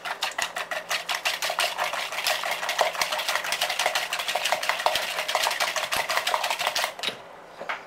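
A whisk or spoon beats rapidly against a bowl in a fast, even clatter while vanilla extract is mixed into bread and butter pudding batter, stopping abruptly near the end.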